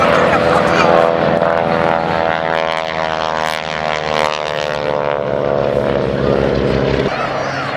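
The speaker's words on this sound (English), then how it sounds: "Distinctive noise of the 450 horsepower Pratt & Whitney radials" A propeller aircraft with throaty, buzzing 450-horsepower Pratt & Whitney radial engines roars past nearby at an airshow, loud and harmonic, its pitch sliding as it goes by.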